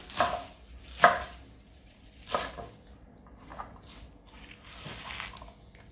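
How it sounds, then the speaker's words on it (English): Knife roughly chopping fresh spinach on a board for a lamb saag, a handful of separate crisp chops spaced about a second apart, close and fairly quiet between strokes. "So you roughly chop them."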